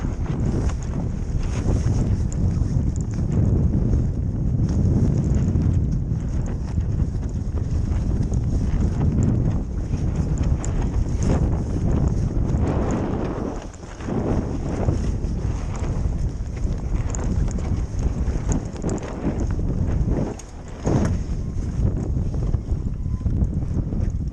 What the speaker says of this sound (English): It's really quite windy out here, quite bumpy too.